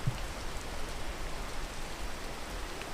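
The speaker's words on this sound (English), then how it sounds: "Oh, it's raining." Rain falling in a video game, a steady even hiss of downpour with no distinct drops or pauses, fairly loud and unbroken, no speech.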